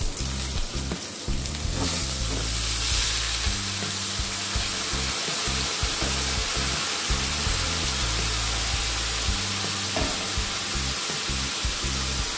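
Banana stem pieces and potatoes fry in hot oil in a pan, giving a continuous loud sizzle broken by rhythmic scraping and stirring strokes, close up and with no talking.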